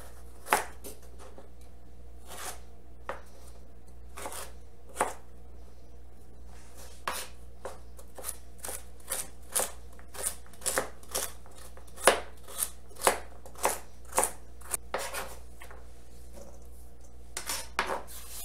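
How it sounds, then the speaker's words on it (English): A knife dices carrots on a cutting board in a home kitchen, making crisp, close chopping taps in an irregular rhythm that speeds into a steadier run of clicks, with no voices. "And I'm going to dice these up also."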